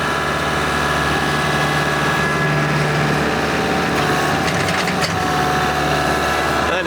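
A tractor loader working at a low, steady pace while spreading dirt, its engine droning continuously at idle-like revs with faint mechanical clatter, recorded close and heard alone.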